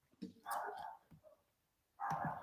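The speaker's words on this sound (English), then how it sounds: "my little dog is losing her shit outside the door" A small dog barks and yaps in excited bursts from behind a door, muffled and somewhat distant, with a pause between outbursts.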